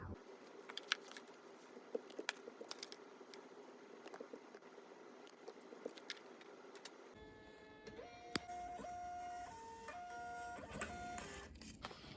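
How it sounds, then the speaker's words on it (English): A label printer prints shipping labels for a small business, a steady mechanical whir with clicking and stepped motor tones, preceded by quiet handling noises; close and fairly quiet, no talking. "If you don't already have a label printer for your business, I highly recommend investing in one."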